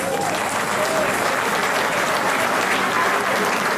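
Audience at a Téléthon charity event breaks into sustained applause, a dense, even wash of many hands clapping that fills the whole stretch.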